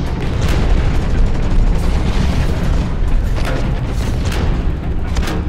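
Grenadier-class grenades burst in the Hawken mech game, a loud dense run of booming explosions thudding repeatedly over a heavy low rumble.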